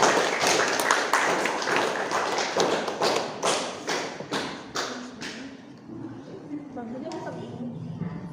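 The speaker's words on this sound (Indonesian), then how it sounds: "beri tepuk tangan untuk kelompok 4" A class applauds a student group after their presentation, with a burst of hand claps that starts loud and tapers off over several seconds while talk continues through it.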